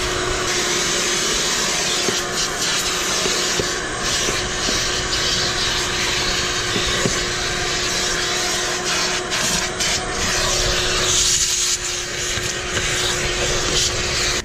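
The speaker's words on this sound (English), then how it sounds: "I'm gonna vacuum that, pull it out, and then vacuum underneath it." A vacuum cleaner roars continuously up close, its suction whine shifting slightly as the nozzle drags and bumps across a car floor mat.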